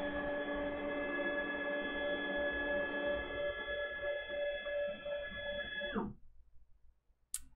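A CNC router run by Mach4 makes a rapid move to its XY zero, giving a steady tonal whine and hum for about six seconds before stopping abruptly, followed by faint clicks and one sharp tick.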